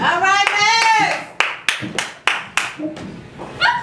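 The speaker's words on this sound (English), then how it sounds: "I love it when one person claps" A single person claps alone in an event hall, about eight sharp separate claps at an uneven pace, following a voice calling out loudly at the start.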